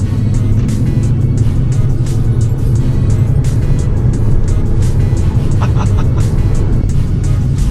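Electric Fiat 500 accelerating hard while racing a Mercedes C63 AMG, heard as a steady loud low road and motor roar from inside the car throughout, with a few faint higher clicks and tones near the end.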